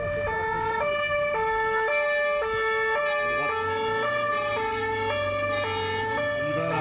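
A GIPN police vehicle in Nice runs its two-tone siren, alternating high and low notes in a steady pattern, loud over engine rumble and road noise.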